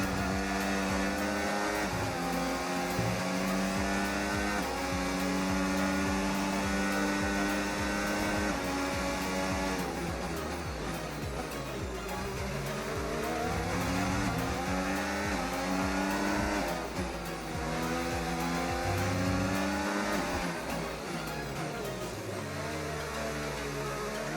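A McLaren Formula 1 car's engine screams past on the straight in the F1 25 racing game, a loud continuous high-revving whine with rising and falling pitch through gear shifts, overlapping another car's engine throughout.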